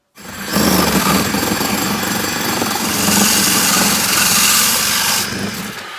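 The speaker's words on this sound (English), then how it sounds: "I'm going to core this side out now with the 102mm hole saw." A 102mm hole saw bores a speaker hole through a caravan panel, giving a loud, steady, rough grinding whine that runs for about five seconds before spinning down, with no talking.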